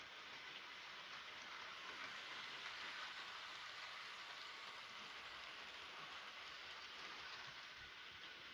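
A Hornby Terrier model railway locomotive runs along track, a quiet, steady, even rumble and hiss that holds level without pauses throughout.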